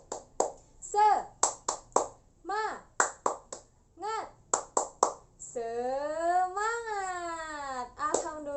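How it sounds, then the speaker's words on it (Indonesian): Children in a classroom chant the rhythmic Indonesian tepuk semangat routine, a teacher leading a call-and-response. Several sharp, evenly spaced claps alternate with young voices, building to a long sung word at the end, close and lively. "Tepuk semangat."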